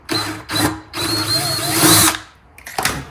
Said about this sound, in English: So long as I keep the drill steady, I won't drill any metal out